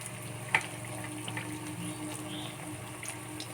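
Drumstick flower fritters fry in mustard oil, giving a soft, steady sizzle with a few faint bubbling pops and one brief clink near the start.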